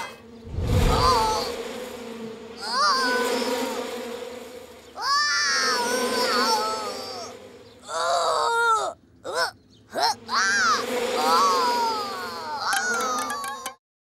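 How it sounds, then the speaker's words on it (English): Angry cartoon bees buzzing from a disturbed beehive in an animated children's counting show, loud droning bursts broken by short gaps, mixed with squeaky cartoon voices crying out. "Francis upset the beehive and was chased by 47 angry bees."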